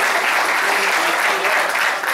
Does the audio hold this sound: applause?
yes